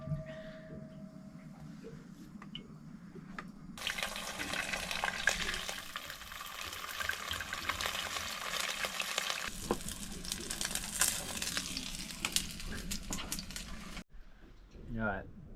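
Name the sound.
fish frying in oil in a pan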